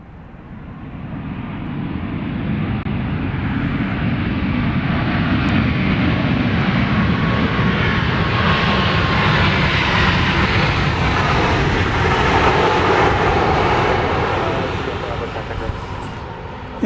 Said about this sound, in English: It's a MAX 8 on Runway DFW live at Dallas Love Field.